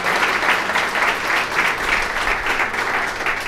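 Audience applause at a book release ceremony: steady, dense clapping from a seated crowd that fills the whole stretch with an even roar and no voices on top.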